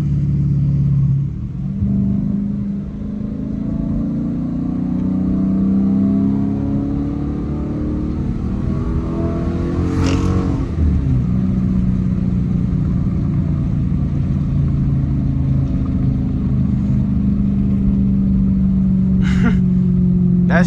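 Dodge Challenger R/T V8 revving hard on downshifts during a night drive through the suburbs, heard from inside the car: a loud, steady low engine roar swelling and falling as gears change, with a brief sharp blip midway.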